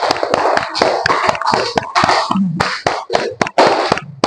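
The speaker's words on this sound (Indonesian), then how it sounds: "Beri tepuk tangan untuk kelompok auditori" Students in a classroom clap for a fellow group, loud close claps in uneven bursts with short gaps between them, some sharp taps standing out above the rest.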